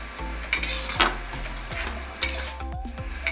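Besan boondi is stirred in sugar syrup in a pan over low heat. A spoon scrapes and knocks against the pan in repeated irregular strokes over a soft background sizzle, close and fairly clear.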